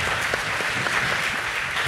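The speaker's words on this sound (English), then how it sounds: "Just clap it up" Short burst of audience applause at a church panel discussion on Father's Day, a steady wash of clapping from a room of people, moderately loud and continuous for about two seconds.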